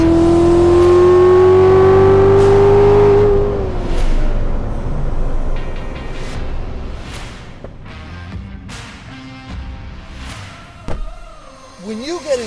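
A 2016 Chevrolet Corvette C7 Z06 accelerates hard, its engine note climbing loud and close before fading into a rushing road noise as voices talk over it.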